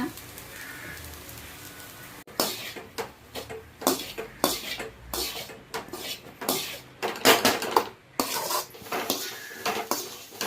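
Metal utensils clatter and scrape against a pan as egg rice is tossed, a loud, busy stretch of irregular clanks and stirring rattles after a quiet opening, with no voices.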